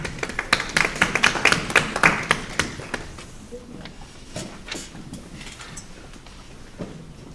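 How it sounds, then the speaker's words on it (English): An audience at a town hall meeting breaks into applause, a burst of clapping that fades into scattered, sparse claps and a few taps. "So I want to applaud you all and recognize you all for doing that."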